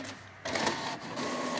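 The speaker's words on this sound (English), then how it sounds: "it shows that it is printing out the envelope" An HP ENVY 7855 printer feeds and prints an envelope, its mechanism giving a steady, close whirring and clicking drone that steps up in loudness partway through and carries on without pause.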